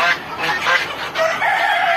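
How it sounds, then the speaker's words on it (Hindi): Hens on a poultry farm, kept in rows and sitting on eggs, cluck and call in a busy overlapping chorus close by. "ये इस प्रकार से यहाँ सब मुर्गी रखे हुए हैं और जितना सारा भी देख रहे हैं मुर्गी सब अंडे पर हैं"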